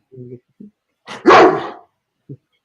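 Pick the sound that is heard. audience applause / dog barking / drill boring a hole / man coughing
dog barking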